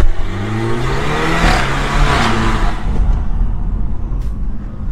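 A car's engine is held at high revs under launch control in Sport Plus mode, a loud, steady, droning roar with slight pitch wavering that eases off near the end, close by with no talk.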